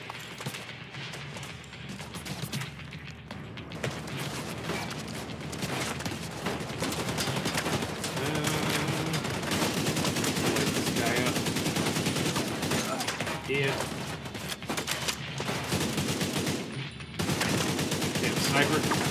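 Continuous gunfire from a firefight in Tom Clancy's The Division, including sniper shots, loud and sustained for the whole stretch with dense bursts and a brief lull near the end; a voice speaks faintly at times underneath.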